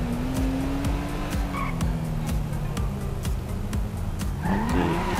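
Engine drone of a Bentley in GTA V held through a sustained drift, a steady tire squeal riding the motor noise, which rises in pitch near the end with a faint screech.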